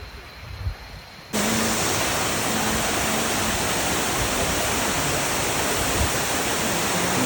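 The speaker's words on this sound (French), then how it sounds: "Allez, je vous montre la cascade." A forest waterfall in Thailand roars as a loud, steady wash of falling water that cuts in abruptly after a quieter opening with faint rustling, then continues unbroken.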